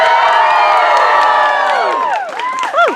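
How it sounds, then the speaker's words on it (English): Audience at a Shakespeare comedy performance of A Midsummer Night's Dream cheering, whooping and shouting, a loud sustained crowd roar with children's high yells rising near the end. "stomp your feet, whistle, throw small loved ones into the air."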